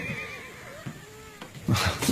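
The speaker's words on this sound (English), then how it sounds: "The horses are out of control." A horse gives a brief whinny, followed by scuffling and a louder burst near the end, in a dramatic scene set on a colonial plantation.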